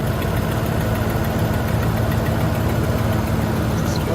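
A Ford 5.4L 3v Triton V8 with a failing exhaust manifold idles steadily up close, a low rumbling drone with a fast ticking pulse running evenly throughout, no voices present.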